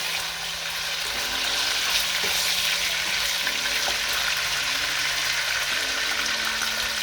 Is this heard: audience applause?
no